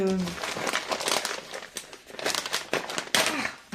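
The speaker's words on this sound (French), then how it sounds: "j'ai des toutes petites enveloppes comme ceci" Small paper envelopes handled close by, giving a run of crinkly rustles and crackles throughout, with someone speaking over them.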